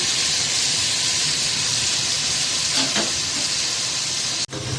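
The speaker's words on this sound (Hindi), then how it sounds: "देखिए ये अच्छे से भुन रहा है मसाला।" Masala with ginger, garlic, onion and two tablespoons of yogurt fries in a pan for double-masala paya, a steady loud sizzle throughout with a couple of brief scrapes near the end.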